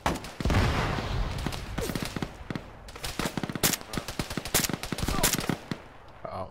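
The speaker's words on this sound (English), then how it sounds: "Shots far out." Gunfire in the video game Lythium during night operations: bursts of rapid shots and single cracks, some sharp and loud, others more distant, with a brief voice.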